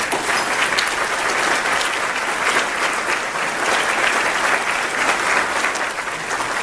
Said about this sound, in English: Let's give Greg another big round of applause.